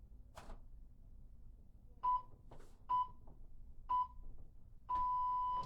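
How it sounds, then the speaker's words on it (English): Four short electronic beeps from an interval timer during a core workout, spaced about a second apart, with the last one held longer, ringing clearly over a low background hum. "You'll hear 3 beeps to let you know there's 3 seconds left."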